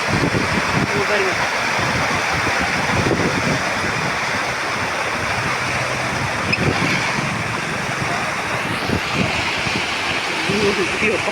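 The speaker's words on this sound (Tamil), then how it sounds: "பாலாறு எப்படி போகுது பாருங்கள்." Palar river water flowing, seen near a check dam with villagers gathered: a steady, broad rushing wash that holds level throughout, heard under a voice talking.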